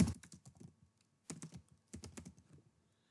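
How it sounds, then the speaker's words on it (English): Typing on a computer keyboard while entering a workflow name in an editor: close, crisp keystrokes in quick bursts separated by short pauses, with no talking. "I'm typing my workflow name here"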